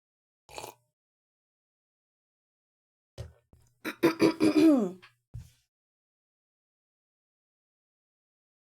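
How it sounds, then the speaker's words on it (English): A person clears their throat in a short rough burst, with a couple of brief soft noises before and after, otherwise quiet. "Let me clear my throat properly."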